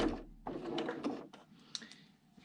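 A sewing machine stitches elastic into a cotton face mask, running in short mechanical bursts with brief pauses and small clicks between runs, close and fairly quiet.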